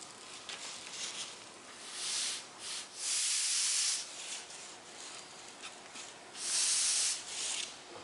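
An airbrush-style gun sandblasts glass in bursts of loud, close hissing that start and stop in a steady rhythm, alone without talk.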